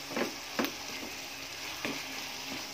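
Ground chicken breast with chicken cubes sizzles quietly in a pan as a utensil stirs it, giving a soft, steady frying hiss broken by a few brief scraping strokes.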